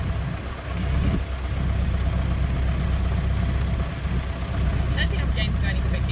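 A Ford Model T engine runs steadily while the car drives along, a continuous low rumble close by, with a voice speaking over it.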